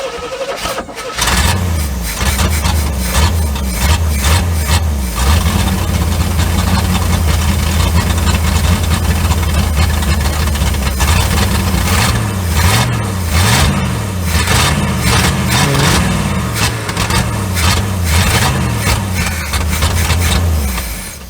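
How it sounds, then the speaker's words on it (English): The engine of a 1972 Chevrolet C30 truck that sat abandoned on a farm for 15 years cranks, catches and idles roughly, loud and close, with its pitch wavering and surging partway through. "Let's fire it up again, see if she'll idle now that I got all them leaks fixed."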